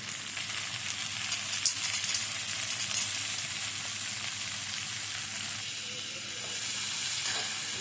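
Green peas sizzling and frying in a pan of tomato for a homemade noodle dish, a steady close crackle and hiss that holds throughout with a few sharper spits near the start.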